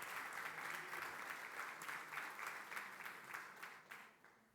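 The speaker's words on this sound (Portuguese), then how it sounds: "Dá uma salva de palmas para esse povo maravilhoso aí que eles merecem." Audience applause at a talk, a dense, even clatter of many hands clapping that holds for several seconds before gradually thinning out, heard from some distance and fairly quiet.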